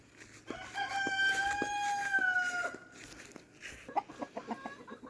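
A rooster on a farm crows loudly nearby in one long drawn-out call, followed by quieter clucking and scattered short fowl sounds, with no talking.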